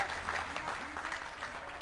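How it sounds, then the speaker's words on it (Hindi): A crowd applauds at a Hindi poetry recital, the clapping steady and moderately loud, with some voices mixed faintly into it. "जोरदार तालियां"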